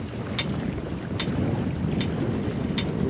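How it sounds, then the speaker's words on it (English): A MacGregor sailboat heeled over under sail, with steady wind rushing over the microphone and water washing along the hull, plus a few soft periodic taps. "All right, we are sailing out."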